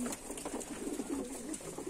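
Pigeons coo softly in low, rolling, repeated calls, a few birds murmuring close together against quiet background noise.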